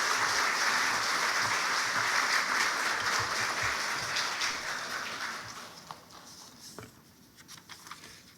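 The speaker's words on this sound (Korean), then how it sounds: "나오실 때 큰 박수 부탁드리겠습니다." Church congregation applauding during a Sunday afternoon service, a steady, fairly close wash of clapping that thins out and fades near the end.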